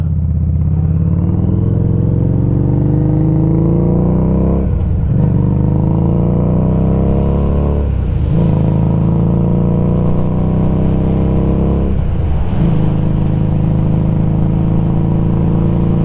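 A motorcycle with a six-speed transmission and very low gearing drones loudly and steadily while riding, engine pitch climbing through each gear and dropping at three shifts, with heavy wind rumble throughout and no talk.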